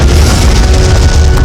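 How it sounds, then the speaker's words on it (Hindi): Akbar's Mughal cannons firing in battle, a loud continuous rumbling boom filling the whole moment with no pauses, dense and close. "देखिए कैसे आग उगल रही हैं अकबर की तोपें"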